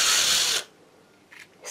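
A power drill whines loudly into a seashell (a rapa whelk) for about half a second and then cuts off, leaving quiet room tone with a couple of faint rustles.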